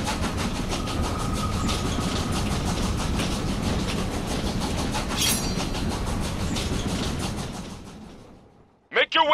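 Train in the video game Killer is Dead rolling along with a steady, dense rumble and rapid clickety-clack of wheels on rails, loud and continuous before fading out near the end into a brief burst of other sound.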